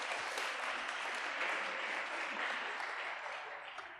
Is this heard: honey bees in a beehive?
no